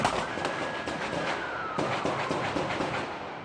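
Gunfire during the late-night Dallas police ambush by multiple shooters, including one firing from an elevated position: a rapid series of sharp, echoing cracks in a noisy outdoor scene, over a steady wash of background noise.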